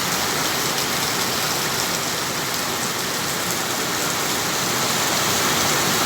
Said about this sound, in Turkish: Maşallah çok güzel yağmur yağıyor ya.